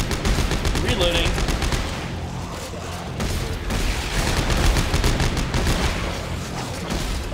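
Plasma cutter fire in the sci-fi horror game Dead Space 3, heard as dense, loud bursts of shots and booms that run almost without pause, with a brief lull in the middle.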